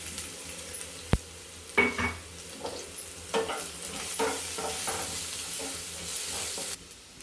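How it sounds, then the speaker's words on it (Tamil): Crushed garlic sizzles and crackles in a hot pan, broken by sharp scrapes and clanks of a spoon stirring against metal. "பூண்டு வதங்கிடுச்சுமா"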